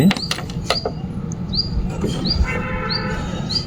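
Screws on a rifle scope's zero stop are loosened, giving close metallic clicks and small creaking turns, with faint bird chirps in the background.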